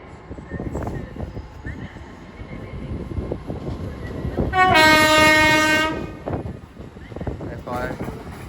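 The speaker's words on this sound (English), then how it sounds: "Part now will be the 1545 Advantage West Coast service from London Euston to Cheshire." An Avanti West Coast train runs through Crewe station on the West Coast Main Line, with a rumbling pass, a loud two-tone horn blast midway and a brief fainter horn note afterward.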